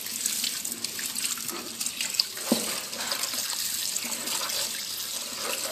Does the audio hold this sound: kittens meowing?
no